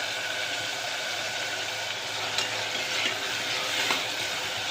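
Tomato curry tempering sizzles steadily in a pan, a dense continuous fry broken by a few scraping stirs, close and fairly loud with no talk.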